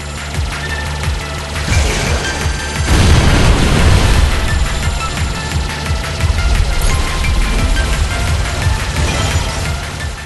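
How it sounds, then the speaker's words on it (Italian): Heavy cannon-like overdrive frontal shot from the shmup Revolver360 Re:Actor, loud booming blasts over dense game music and effects, with a big burst around three seconds into continuous explosive noise. "un colpo frontale tipo cannone l'overdrive"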